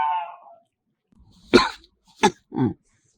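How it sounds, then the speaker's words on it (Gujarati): Three short, harsh coughs in quick succession, close and fairly loud, after a brief voice at the start and a pause of silence. "ઉધરસ થઈ ગઈ છે, કોઈ ખારા ડોક્ટર પાસે જાઓ."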